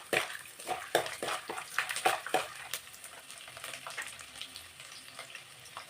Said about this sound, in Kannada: ಈಗ ಸ್ವಲ್ಪ ಹುರ್ಕೊಳ್ಳೋಣ.